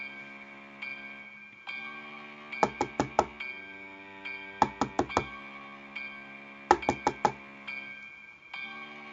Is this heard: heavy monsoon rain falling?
no